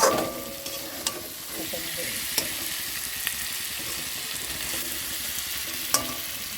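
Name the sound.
chitol fish masala sizzling in oil being stirred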